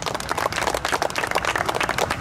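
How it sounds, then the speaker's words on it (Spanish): A crowd at a horse racing track applauds in tribute to a deceased racing team member, dense steady clapping held at an even level throughout. "Fuerte el aplauso también para él."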